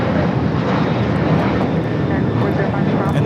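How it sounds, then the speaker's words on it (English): A United Airlines Boeing 787-9 Dreamliner jet takes off from Los Angeles International Airport, producing a loud, steady, broadband engine roar that holds at full strength for the whole stretch. "Here we're looking at United Airlines Flight 32 taking off to Tokyo Narita on the 787-9 Dreamliner."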